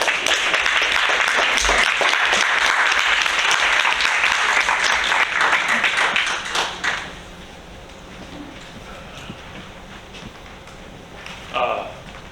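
A crowd applauds loudly and steadily for several seconds, then the clapping drops away to a quiet room with a few scattered claps and small noises.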